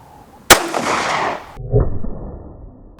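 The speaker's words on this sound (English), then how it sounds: "So I'm going to go easy on the braid first and shoot it with this one." A single sharp, loud gunshot rings out from a .38 Special Taurus compact revolver fired into braided bread, followed by a brief echo and a clattering thud.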